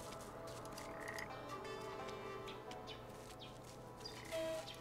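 Frogs croak in the video game Papo & Yo, soft repeated calls and small chirps over a quiet, steady game ambience with a faint tonal hum and a brief chime near the end.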